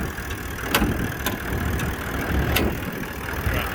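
A 2021 Toyota Landcruiser 76 Series GXL engine idles steadily with a low rumble, a few sharp clicks or rattles ticking over it, close and alone without talk.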